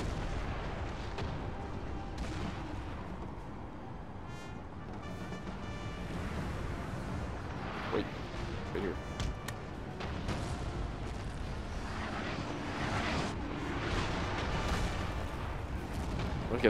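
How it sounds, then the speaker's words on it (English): Repeated cannon fire in the video game Napoleon: Total War booms and cracks in quick, irregular volleys, loud and continuous, over a busy battle din. "Cannons are shooting in the bunch."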